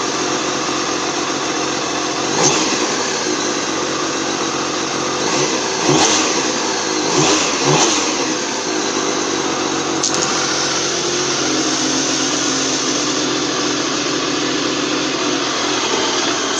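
A Triumph Daytona T595 motorcycle, long laid up and running a bit smoky, turning over and firing, with a steady engine drone and several short revs between roughly two and eight seconds before settling into an even idle.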